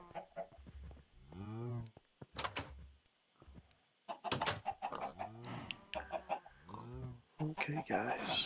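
Chickens cluck in Minecraft in a run of short bursts, with soft talk mixed in among the clucks.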